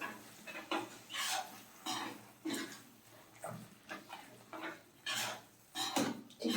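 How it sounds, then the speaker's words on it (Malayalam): Yogurt being stirred into chicken mughlai in a pot, a series of short, moderately loud scraping and clinking strokes of a spoon against metal in an uneven rhythm, with no voices. "തൈര് കൂടി നന്നായിട്ടൊന്ന് മിക്സ് ചെയ്ത് കൊടുക്കാം."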